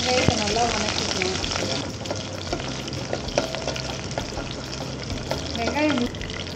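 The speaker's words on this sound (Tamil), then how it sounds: "கடுகு பொறிஞ்சோடனே அதில் வெங்காயத்தை போட்டுக்கலாம்." Mustard seeds and onion frying in hot oil for a millet and dried-fish curry, a dense continuous sizzle with small pops and crackles, close up, with faint speech underneath.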